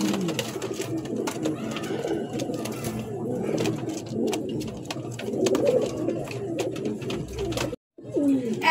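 A pair of white Lakka pigeons coos in repeated soft, throaty phrases at close range. The calls are steady against a light background of other chirps and a brief dropout near the end.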